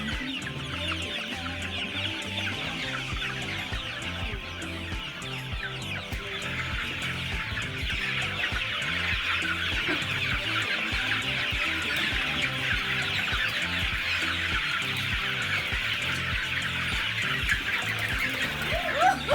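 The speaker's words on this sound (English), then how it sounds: "Here we are. Yeah, with the chickens." Chickens cluck continuously in a busy flock close by, the sound growing slightly louder over twenty seconds with some chirping mixed in.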